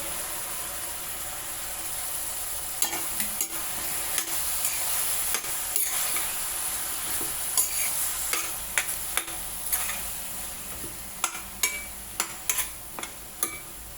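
Mushrooms frying in a pan with a steady sizzle and repeated clicking scrapes of stirring, close and fairly loud, with no talking.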